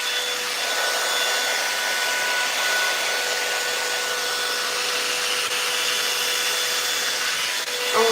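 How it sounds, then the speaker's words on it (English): A hair dryer blows hair forward on a styled sew-in weave, giving a steady, continuous airy whoosh that stays even and close throughout, with no talking. "I'm blow drying it to the front to get more volume in the front"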